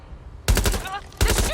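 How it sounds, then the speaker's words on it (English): Rapid bursts of automatic gunfire from a Watch Dogs Legion firefight, two loud broadband volleys after a quiet start, with sharp repeated cracks and a brief whistling tone between them. "The shooting."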